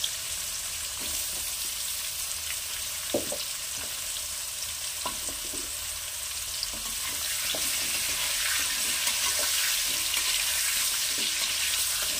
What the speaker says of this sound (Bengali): প্রথমে দিয়ে দিচ্ছি কুমড়ো। কুমড়োটাও আমি হালকা ভেজে তুলে রাখবো।